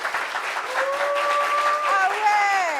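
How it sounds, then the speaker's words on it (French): Studio audience applauds a guest named Chika on a French talk show, a steady wash of clapping throughout, with whistles or cheering voices rising over it in the second half. "Applaudissements pour Chika, s'il vous plaît"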